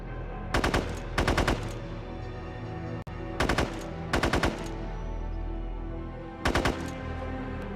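Bursts of machine gun fire from enemy gun nests in the SOCOM 3 Navy SEALs shooter, five or six short rapid volleys spaced across the stretch, loud and close with a steady low hum beneath.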